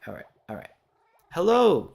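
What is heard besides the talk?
cats in the background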